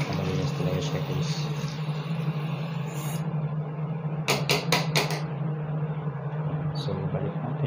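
A drain valve filter is tapped to knock debris loose: a few sharp knocks, including a quick run of four, ring out close over a steady low mechanical hum.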